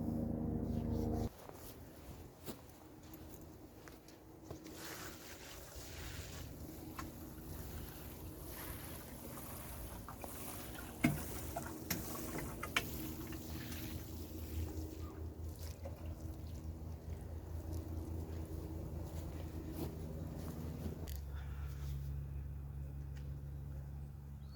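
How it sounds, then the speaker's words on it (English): Water pours steadily over newly planted turnips on an allotment plot, making a continuous soft splashing hiss that runs for most of the time before cutting off, quiet and close with low background outdoor hum. "give these a really good water"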